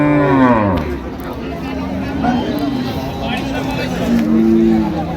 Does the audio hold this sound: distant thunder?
no